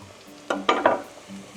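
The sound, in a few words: garlic sizzling in pan with browned onions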